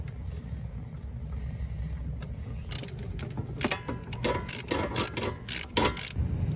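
Pinch bolt being reinstalled on a car coilover during a suspension install, a quiet stretch followed by loud, close ratcheting clicks in uneven bursts as the tool turns.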